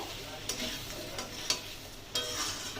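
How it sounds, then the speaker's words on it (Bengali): Kashmiri chilli powder gets stirred into a crab curry in a pan: a quiet, low sizzle with three soft scrapes of a spoon spaced about a second apart. "কাশ্মীরি লঙ্কার গুঁড়ো দেওয়ার পরে একটু নেড়ে চেড়ে নেবো"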